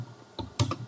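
A few quick keystrokes on a computer keyboard while a scale value is entered in CAD software, two short clusters of clicks close up with no talking.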